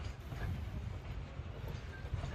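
A train rumbles along the rails with a steady low roar and faint rattling wagons, continuous and fairly loud, with no talking.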